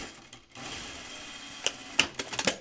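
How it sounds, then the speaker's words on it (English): A sewing machine stitching a jacket seam, heard quietly as a few short, sharp clicking bursts near the end over a soft background hiss. "So I'm just going to sew a shorter seam allowance here"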